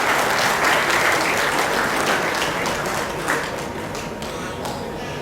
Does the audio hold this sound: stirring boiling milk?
no